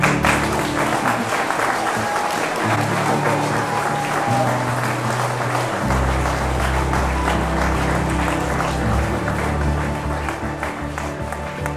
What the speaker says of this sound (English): let us congratulate Juan and Samantha with a round of applause